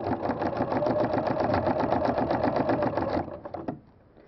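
Sewing machine fitted with a ruffler foot stitching a row along a marked line on a pillow panel, a fast even rapid-fire clatter that runs steadily for about three seconds, then slows and stops.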